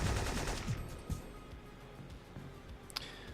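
Gunfire in a video game: a few sharp shots early on, then scattered fainter pops and a bright crack near the end, under steady background noise.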